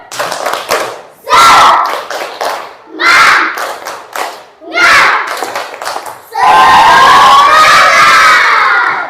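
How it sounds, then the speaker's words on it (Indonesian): A class of children performs a spirit clap chant, rhythmic bursts of clapping and shouted chanting in short phrases, ending in a long loud burst of cheering and shouting. "Tepuk semangat."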